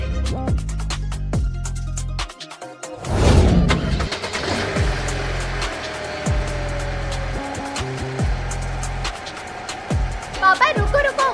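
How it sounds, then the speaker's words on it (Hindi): A family car's medium engine runs and revs as the car pulls away for a trip to the market, a steady mid-pitched hum with rising acceleration, under chatter and background music. "पापा आज गाड़ी मैं चलाऊंगा।"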